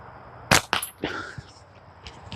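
Homemade slingshot fired a few times outdoors, giving two sharp snapping releases close together followed by a softer thwack and fainter impacts, with little else around.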